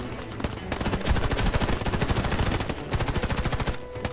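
Rapid automatic gunfire in the online first-person shooter Warface, loud and close, with dense bursts of rattling shots and a brief pause before the firing resumes.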